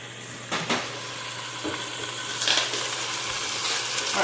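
Chicken frying in oil in a pan, a soft steady sizzle running under a few clinks and scrapes of stirring utensils against cookware.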